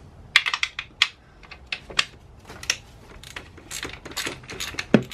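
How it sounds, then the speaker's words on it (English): A socket wrench with an E10 socket loosens valve cover bolts on a BMW N52 engine, giving irregular close metallic clicks and ratchet ticks in quick bursts with no voices. "Now what I'm going to do is remove these bolts here that holds this entire branch in place. So it takes an E10 socket."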